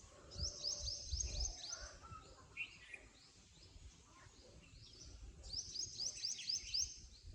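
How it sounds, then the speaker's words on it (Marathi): Birds chirping in the morning near a Ganesh temple in a Konkan village, faint bursts of quick high tweets at the start and end with scattered calls between, soft and distant over low background noise, no talk. "पक्ष्यांचा आवाज तुम्हाला येत असेल."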